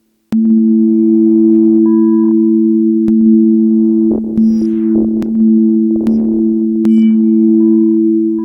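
A steady, loud Kodamo Mask1 synthesizer drone holds throughout, with a shortened filter decay giving short clicky blips and brief percussive noise bursts that die away quickly over it.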